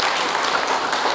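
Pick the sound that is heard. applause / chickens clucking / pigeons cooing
applause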